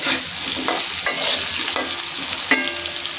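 Potatoes sizzle and hiss in a frying pan while a utensil stirs and scrapes them, giving a few distinct knocks over a continuous close frying noise.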